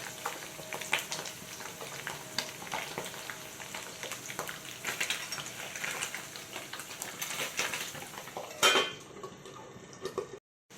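Paneer cubes fry in a pan, a steady sizzle with scattered clinks and stirring scrapes throughout, a louder metallic clatter near the end before the sound drops away.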